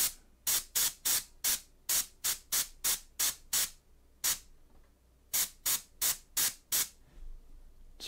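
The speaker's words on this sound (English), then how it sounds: "can I airbrush right under that cheekbone some black?" An airbrush sprays black paint in short, separate bursts, about a dozen crisp hissing puffs in a quick rhythm, a pause, then another run of bursts, close and clear with no talking.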